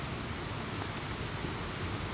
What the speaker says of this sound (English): it's really raining now.